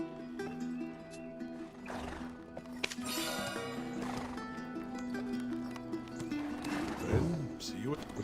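Horse hooves clip-clop and a horse neighs in the Black Desert Online video game, heard under steady game music and someone talking.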